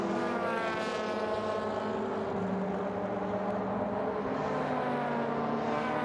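A WTCC touring race car at the 2015 Japan race holds a steady, sustained engine drone at full speed along the straight, constant and moderately distant throughout.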